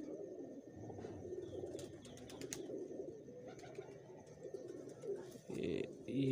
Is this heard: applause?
no